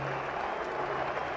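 Cricket crowd in a grandstand applauding and cheering a six, a steady broad wash of clapping and crowd noise heard at a distance, continuous throughout with no pauses or gaps.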